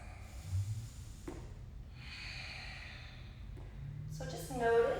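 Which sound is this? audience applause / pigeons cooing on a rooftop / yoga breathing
yoga breathing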